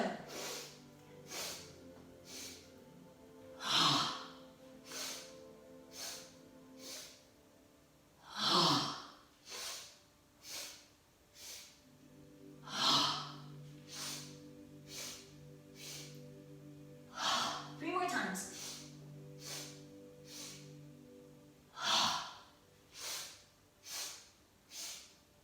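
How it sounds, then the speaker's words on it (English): Forceful exhalations in a breathing exercise, each a breathy voiced release as the arms swing down, repeating roughly every few seconds across the span, fairly close and moderately loud with no talk over them. "the exhale is a forceful exhalation with the arms swinging down on either side, and you get to make a sound as you exhale"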